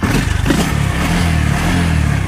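A motorcycle engine keeps running after its ignition switch has been turned off, a loud, steady close-up idle with an even throbbing pulse and no talking.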